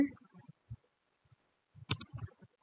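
Keys clicking on a computer keyboard while commands are typed to configure a router and switches, a few sparse clicks scattered in short bursts, with a voice briefly speaking over them.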